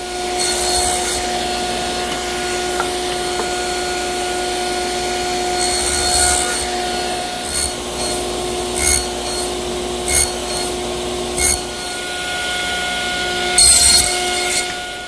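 A table saw runs steadily with a constant motor whine while cutting wood for tenons, with a few brief, louder rasping bursts as stock feeds through.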